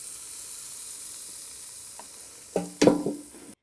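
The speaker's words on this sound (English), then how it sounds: "So now I'm just going to put the chicken in the air fryer." Chicken breast goes into a preheated air fryer, with a steady soft hiss that swells into louder crackling sizzle bursts near the end.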